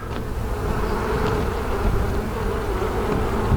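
Honey bees buzz in a steady, dense drone as hive frames are inspected, close and continuous with no talk.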